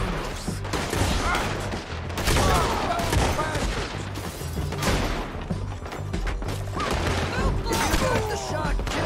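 A volley of gunfire erupts, several sharp overlapping shots and crashes repeating in bursts, loud and close, with shouting voices mixed into the chaos.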